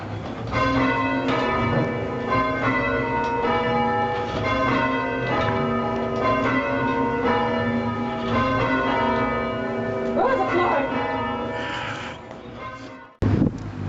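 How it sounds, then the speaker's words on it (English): Church bells rung by a team of bell ringers at St Anne's fête, a dense, continuous peal of overlapping tolling strikes that rings out loud and steady, then cuts off abruptly near the end with a short burst of noise. "Now we have some bell ringers here who are ready to ring."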